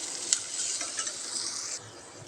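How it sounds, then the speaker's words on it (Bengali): A frying pan of turmeric, chili powder and salt is stirred for a tengra fish curry, giving a steady scraping sizzle with one sharp clink near the start. The sound cuts out shortly before the end. "একটু ভালোভাবে মিশিয়ে নিলাম।"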